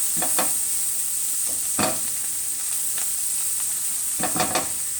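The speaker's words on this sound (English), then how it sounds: "In goes my green onion and my garlic to cook." Green onion and garlic cook in melted butter in a pan with a soft, continuous sizzle and a few brief bursts of stirring and scraping. A high, even hiss sits over the whole stretch.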